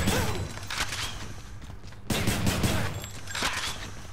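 Repeated shots from the Exaglyph rail gun in Hades, a loud fusillade of sharp bursts with brief gaps between volleys, game effects ringing around them.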